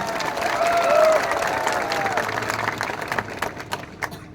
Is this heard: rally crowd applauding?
yes